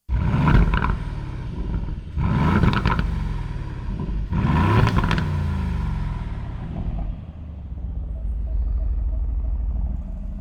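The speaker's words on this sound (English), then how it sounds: "First, here's some low RPM revs of the stock exhaust." A stock V8 exhaust on a 500 hp Aston Martin Vantage revs hard at low RPM three times in quick succession, each roaring burst dropping back to a deep, steady idle rumble.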